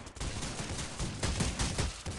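Sustained automatic AK rifle fire in the mobile battle-royale game Rules of Survival, a dense, close volley of shots running without pause for a couple of seconds.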